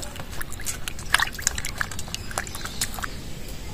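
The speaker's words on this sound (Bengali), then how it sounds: "এই দুটো আম এখন জলে ভালো করে ধুয়ে নেব।" Two mangoes are rinsed in water, giving soft, close sloshing and dripping with scattered small splashes and trickles, fairly quiet and without talking.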